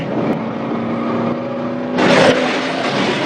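Red pickup truck engine droning steadily during a police chase, surging louder as it accelerates partway through, heard alone without talk.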